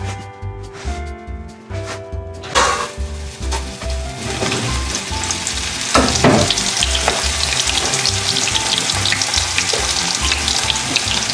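Food fries in oil over low to medium-low gas heat and is stirred, giving a steady crackling sizzle that grows denser and louder midway, with occasional clinks over a rhythmic low background beat.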